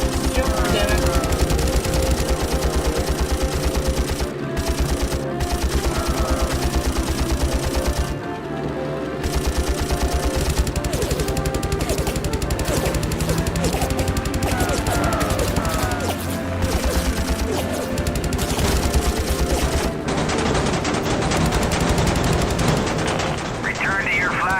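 Aircraft machine guns rattling in rapid sustained bursts during a Heroes of the Pacific dogfight, loud and continuous over roaring engine noise and music, with radio voices talking under the fire.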